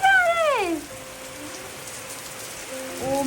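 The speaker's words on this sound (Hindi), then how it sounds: "क्या बारिश है, बहुत तेज हो रही है।" Heavy rain pours steadily during a family trip to Shimla, a loud continuous hiss of drops on surfaces, with brief high animal-like cries at the start and end over the downpour.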